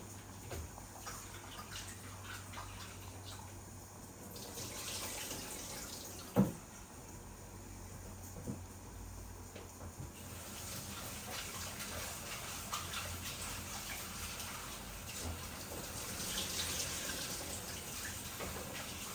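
Tap water runs steadily at a low, even level while fish are rinsed in a kitchen, with a few small clatters and knocks and no talking.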